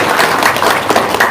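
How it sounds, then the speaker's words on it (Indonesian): Audience clapping and cheering at a live stage event, a dense, steady burst of applause filling the short moment at fairly loud level. "Iya. Tepuk tangan dong."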